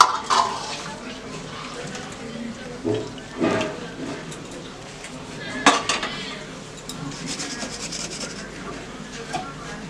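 A pot of fish curry is lifted off a gas stove, with clanking metal, scraping and a few knocks of cookware spread across the stretch, close by and fairly loud.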